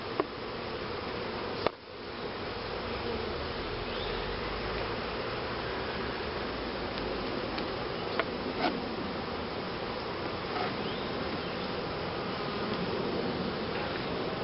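Honey bees buzz steadily around an open hive, a dense, continuous hum close by, with a single sharp knock near the start and a few faint clicks scattered through.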